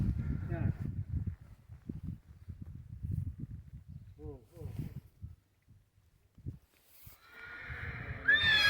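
A filly whinnies briefly amid people talking nearby, with some shuffling and rustling around the animal.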